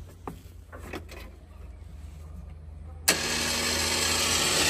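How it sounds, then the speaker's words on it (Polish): An electric winch on a tilting quad trailer with a ramp starts up abruptly after a few quiet knocks, then runs as a loud, steady whine and motor hum while pulling the quad aboard. "teraz wciągniemy się wyciągareczką"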